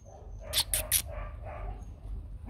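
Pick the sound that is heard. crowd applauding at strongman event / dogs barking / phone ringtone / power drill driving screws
dogs barking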